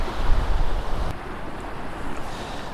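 Ocean waves washing in at Ballynacourty Lighthouse, a steady rushing surf with wind over the microphone, heavier in the opening second and then settling into a lower, continuous wash.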